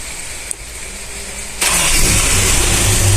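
A Toyota Kijang Kapsul engine cranks and catches, a short click, then a quiet pause before the motor bursts into a loud, steady idle nearby.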